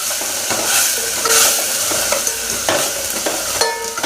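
Onion and tomato frying and being stirred in a pan for Ramzan ganji, a steady close sizzle with scraping stir strokes throughout, no voices.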